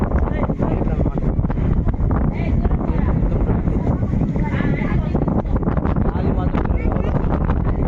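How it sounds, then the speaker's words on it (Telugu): Strong wind at Somasila dam buffets the microphone with a loud, constant low roar while people talk over it. "లెవెల్లో ఉంది గాలి ఇక్కడ"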